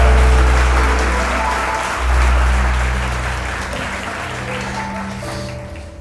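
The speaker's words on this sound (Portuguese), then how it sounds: "Dá uma salva de palmas para Jesus" A church congregation at a Portuguese-language worship service claps in praise, a broad wash of applause over low hum and sustained organ-like tones, fading gradually.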